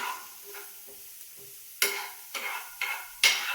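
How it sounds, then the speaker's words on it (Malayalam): Sliced onions sautéing in a pan at home, a soft sizzle broken by several sharp scraping stirs of a spoon, growing louder and busier toward the end, with no voices. "നമ്മൾ സവാള ഇട്ടു കേട്ടോ. അപ്പൊ നമ്മളൊന്ന് പതുക്കൊന്ന് വഴറ്റി കൊടുക്കണം"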